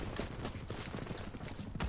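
Rapid bursts of gunfire in the game BattleBit Remastered crackle in a dense, continuous volley, fairly loud, with a few heavier shots near the end.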